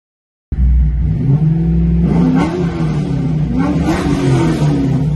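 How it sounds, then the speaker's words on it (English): A car with a Tick Performance stage 2 LS1 torque cam and Spintech stainless mufflers starts up abruptly and idles loud and close, with a deep lumpy rumble and a couple of blips of the throttle. "Stage 2 LS1 or LS2 torque cam? Well, here's your chance to hear one."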